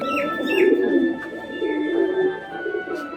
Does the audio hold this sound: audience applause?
no